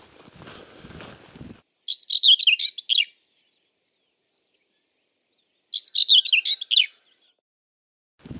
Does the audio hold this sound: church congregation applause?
no